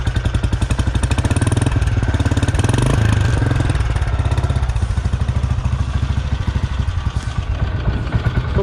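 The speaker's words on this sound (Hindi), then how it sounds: "इंजन की आवाज़ तो यार कुछ अजीब सी ही आती है मैचिस्मो की" A 2008 Royal Enfield Bullet Machismo 350 ES motorcycle engine running close by, a steady, rapid thumping beat with metallic clatter, loud and unbroken throughout.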